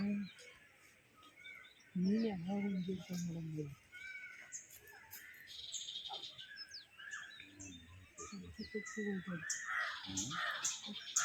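Several birds call outdoors in the evening in Mysuru, crows cawing among higher chirps, with a person talking intermittently over the calls at moderate distance.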